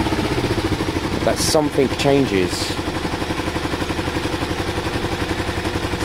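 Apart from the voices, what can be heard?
Kawasaki ER5 motorcycle engine revving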